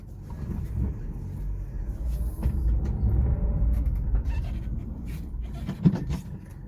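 A 20-year-old Nissan March car driving, its engine a steady low rumble with road noise throughout, moderately loud and close, with a brief bump near the end and no talking.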